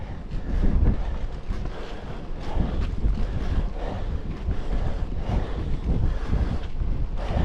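Wind buffeting the microphone while cycling uphill on a long climb, a loud rumbling low roar that gusts and surges continuously and close, with no voice heard.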